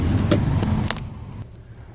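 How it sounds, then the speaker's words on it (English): A truck drives along a road beside Lake Lanier, its engine a steady nearby rumble for the first second before the passing sound fades quickly into quieter background. "here comes a truck coming down my way"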